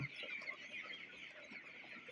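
Farmed chickens in a poultry house cluck continuously in a soft, dense murmur of overlapping calls, even and unbroken throughout, with no voices.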